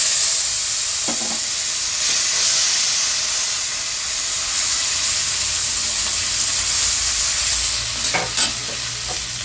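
Panch phoron tempering with green chili and ginger paste frying in a pan, a steady close sizzle and hiss with a few stirring scrapes near the start and the end, no voices.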